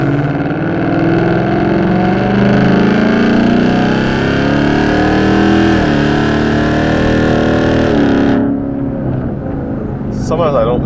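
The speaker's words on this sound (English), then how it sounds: "the low end grumble on this car is, it sounds so different from the GT350" A 10-speed Ford Mustang GT engine rumbles with a deep, steady low-end growl, building as it accelerates, then eases off near the end; voices are faint or absent.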